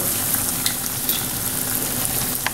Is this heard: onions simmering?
yes